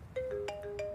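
A mobile phone rings with a short electronic ringtone melody, a few quick bright tones stepping up and down in under a second, fairly clear and on its own.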